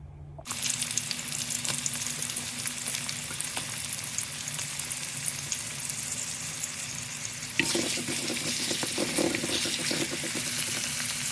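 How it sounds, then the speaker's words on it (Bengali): Chopped onions frying in a hot pan for bitter gourd bhaji give a steady, dense sizzle and crackle close by, swelling louder partway through, with no voices. "ভাজির পেঁয়াজটা ফ্রাই হইতে হইতে"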